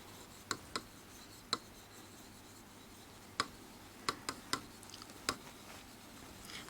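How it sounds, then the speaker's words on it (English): Pen or pencil marks on paper, a handful of faint, sparse scratches and ticks scattered over a quiet room tone with no talking. "I write it down."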